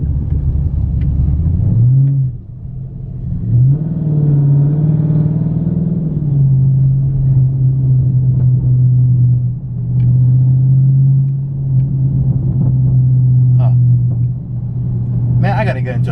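A 2019 Dodge Charger Scat Pack launching with its wheels spinning gives a loud, steady, close low engine drone, with a rising pitch early on and then a sustained roar throughout, and no clear talk over it.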